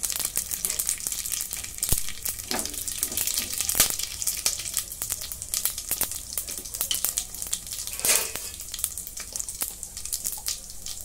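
Whole spices including cloves, black pepper, cardamom, cinnamon pieces and a bay leaf sizzle in hot oil for masala rice, a continuous crackling fry with sharp pops and light stirring scrapes, close and steady.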